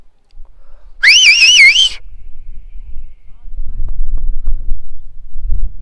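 On a hilltop at Rammakkalmedu, a person whistles one loud, close, warbling note that wavers up and down for about a second, followed by gusty wind rumble and light scuffing.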